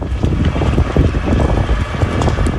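Strong wind gusts roar continuously during a wildfire near Dedeağaç, loud and close, buffeting the microphone without a break.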